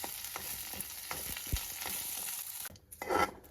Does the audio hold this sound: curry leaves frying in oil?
yes